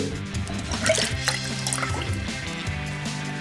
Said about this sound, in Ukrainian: Виймаємо склянку з води і дістаємо папір.